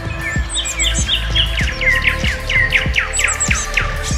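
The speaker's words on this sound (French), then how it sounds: "depuis les oiseaux qui chantent" Birds sing and chirp outdoors in quick, repeated rising whistles and trills, bright and fairly close, continuing for several seconds over a low background hum with no one talking.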